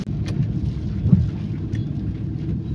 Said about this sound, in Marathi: या नशीब मी गाडीत बसल्यानंतर पाऊस चालू झाला.